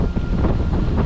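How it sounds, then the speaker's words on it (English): Strong gusting wind on Loch Ness buffets the microphone in a loud, continuous low rumble, with no other sounds breaking through. "the wind's going to increase as well, so it's gusting to about 20 miles an hour"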